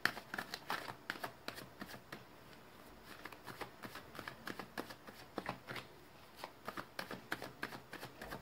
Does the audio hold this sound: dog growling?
no